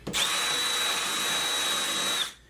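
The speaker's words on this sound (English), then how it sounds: "And sand them perfectly." A power drill spins up and sands wood pieces for a model railroad module, a short, loud, steady whirring burst of about two seconds that starts sharply and stops cleanly.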